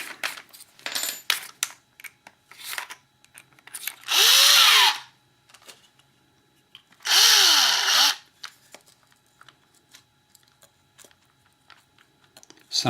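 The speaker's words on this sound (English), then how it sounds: "Use the 4mm drill bit." A power drill with a 4mm bit whirs in two separate bursts of about a second each, its pitch winding up and down, between light clicks and handling noises.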